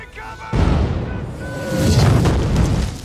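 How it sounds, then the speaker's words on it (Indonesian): A German Flak 88 cannon fires toward a forest in a World War II setting. A sudden heavy boom is followed by a long, rumbling roll of low-frequency blast noise that swells again before fading. "sebuah meriam Flak 88 ditembakkan mengarah ke hutan"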